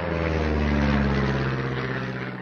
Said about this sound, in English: and then the aeroplane going overhead